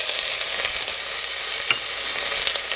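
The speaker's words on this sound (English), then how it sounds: "we're going to start with our carrots, our celery, our pearl onions" Carrots, celery and pearl onions sizzle in olive oil in a soup pot, a steady close hiss of frying with faint stirring.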